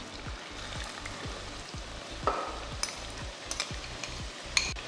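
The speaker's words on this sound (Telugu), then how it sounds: "Let them all fry for a bit. Next 3 chopped onions add చేస్తున్నాను." Cinnamon, cardamom and chopped onions fry in a pan with a continuous crackling sizzle, punctuated by a few light stirring scrapes and clicks, close and moderately loud.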